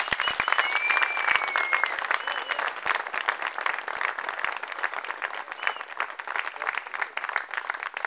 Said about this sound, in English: why don't you give them a round of applause for everything they do